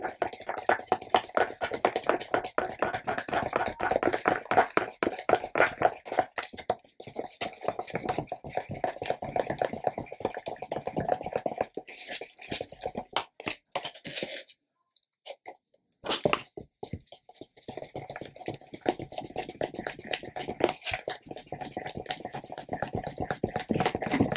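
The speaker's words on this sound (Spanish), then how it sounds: "Volvemos a echar conforme vamos echando ya se va poniendo más cremoso, más pastoso, como vemos, nos cuesta más trabajo de mezclar" Thick, pasty Naturesin mineral resin being mixed, a dense fast run of wet sticky squelching and scraping strokes, close and loud, pausing briefly midway before resuming.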